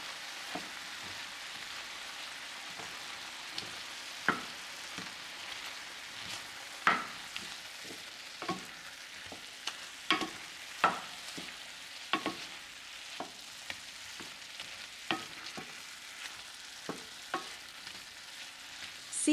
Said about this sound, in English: Pour in the soy sauce and add minced garlic.